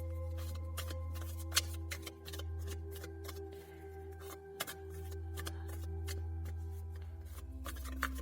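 Tarot cards shuffled and drawn by hand, crisp papery flicks and taps scattered irregularly over a steady low electrical hum, close and quiet.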